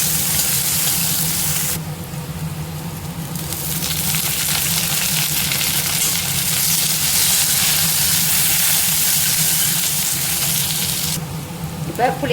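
Shallots sizzling with mustard seeds, cumin and fenugreek in hot oil for hotel-style sambar rice, a steady close frying hiss that holds throughout with slight stirring.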